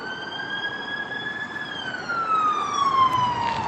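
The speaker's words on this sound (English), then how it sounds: "Hold on, an ambulance is coming." An ambulance siren wails as it passes, a loud, clear rising and falling tone that shifts downward in pitch as the vehicle goes by, with road noise beneath.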